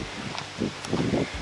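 Strong wind blows hard outdoors, rushing and buffeting the microphone in uneven gusts, with no talking over it.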